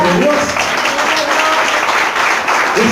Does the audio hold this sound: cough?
no